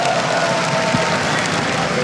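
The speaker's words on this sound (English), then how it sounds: "he can hear people shouting his name and like cheering for him" A large StarCraft 2 tournament crowd at IEM Katowice 2014 cheers and applauds in a steady, dense wash of clapping and shouting that holds at an even level throughout.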